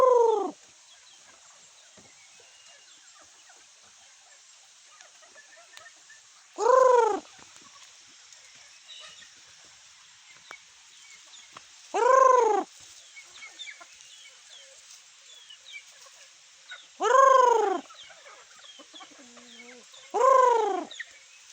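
A wild red junglefowl (labuyo) crows five times, spaced roughly five seconds apart, each crow clear against a quiet forest background.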